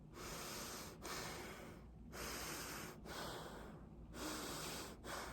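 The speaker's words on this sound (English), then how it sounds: "So I'm going to breathe with my nose." Breathing through the nose while wearing a silk face mask, about four slow, close inhale-exhale cycles of soft airy hiss separated by brief pauses, quiet and with no talking.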